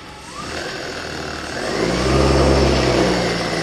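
A custom-wound brushless DC motor without Hall sensors runs on a cheap 36V/48V 350W controller, a close steady whine and hum that rises in pitch and grows louder partway through.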